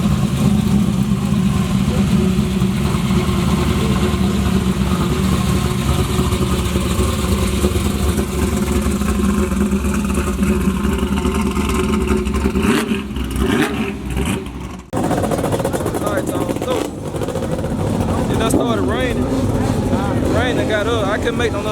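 A turbo Camaro drag car makes a pass at a drag strip with a loud, sustained engine roar. The sound briefly dips and crackles midway, then carries on with rough, surging noise, and a voice talks under it.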